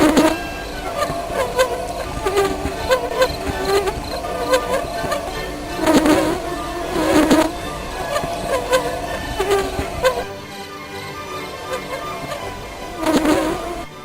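Bees buzz steadily and loudly up close, a continuous insect drone that swells in a few brief surges and then eases.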